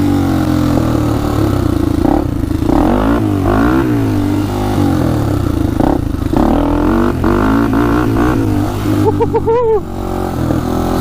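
A Honda 400ex ATV with a 416cc big bore engine and Stage 2 Hotcams revs and accelerates in second gear, a loud rising and falling engine note with rapid gear-driven pitch sweeps up close.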